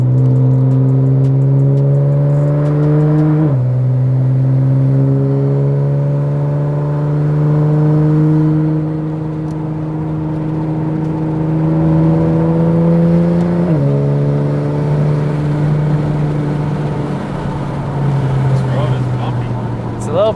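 A Nissan GT-R accelerating from low revs in sixth gear, its engine drone rising steadily with two sharp paddle-shifted gear changes dropping the pitch before climbing again, loud and close from inside the car, with road rumble over bumps.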